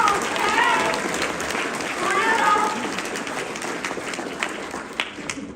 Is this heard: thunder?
no